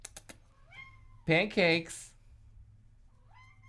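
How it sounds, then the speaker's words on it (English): Pet cats meow in a pair of loud, close, drawn-out cries in the middle, with a brief spoken word and quieter sounds around them. "Our cats are not silent."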